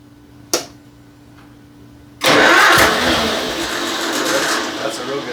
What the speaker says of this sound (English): It may take a few cranks until it fires, until we get fuel into the system.